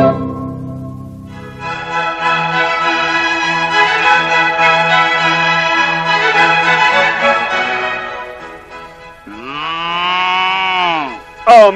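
Cattle low in long, loud, sustained moos, one drawn-out call after another with no talking. The last call rises and falls in pitch and is followed by a brief closer bellow.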